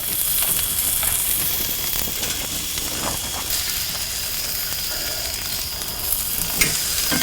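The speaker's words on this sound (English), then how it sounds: "I'm going to open this up and we're going to give these skewers a flip" Vegetable skewers on a Kamado Joe grill, cooked beside tuna steaks, sizzle in a loud, dense, continuous hiss with a few faint clicks and knocks scattered through it, and no talk.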